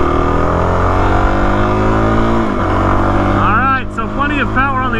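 Suzuki DRZ400 dual sport motorcycle on soft 90-10 dual sport tires accelerating up a freeway on-ramp, the single-cylinder engine droning loud and close, its pitch rising through gears, with wind rush and a voice speaking near the end.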